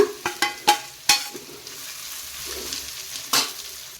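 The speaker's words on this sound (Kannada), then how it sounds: "ಇದನ್ನು ಎಣ್ಣೆಯಲ್ಲಿ ನಾನು ಮಿಕ್ಸ್ ಮಾಡ್ಕೋತಾ ಇದ್ದೀನಿ" Garlic and masala stirred in hot oil for capsicum gojju, with sharp spatula scrapes and knocks over a soft, steady sizzle, heard up close with no talking.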